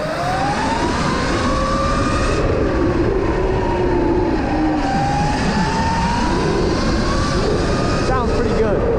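A Surron electric dirt bike fitted with a Gintani kit rides past with a steady, loud whine that rises and falls in pitch over rough broadband road and wind noise.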